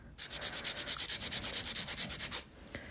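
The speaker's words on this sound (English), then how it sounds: "when I'm filing, I'm not going to file up here in the corner because I don't want to create a notch" A hand nail file works a sculpted hard gel nail in about sixteen quick, even back-and-forth rasping strokes, close and clear, then stops abruptly, with no talking.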